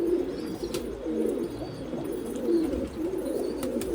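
Domestic pigeons coo continuously in soft, low, rolling calls, fairly close, with faint chirps in the background and no one talking.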